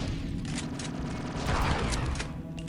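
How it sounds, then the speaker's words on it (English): Rapid shotgun blasts from a blaster-era weapon in the Star Wars Republic Commando shooter, dense overlapping bursts and booms in a close, loud firefight with no talking. "This shotgun is nuts"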